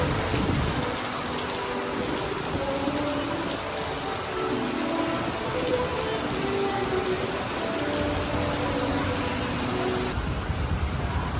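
Heavy rain pounds steadily on a house roof, a dense unbroken wash of drumming drops close overhead, with no voices.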